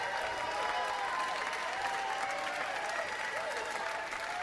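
A basketball arena crowd applauds steadily as a coach cuts down the nets after the ASUN championship game, a dense, even wash of clapping with faint voices mixed in throughout.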